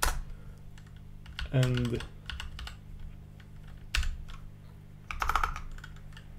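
Keys clatter in short bursts on a computer keyboard as a password is entered, with brief pauses between taps, a louder cluster near the end and a low steady hum underneath.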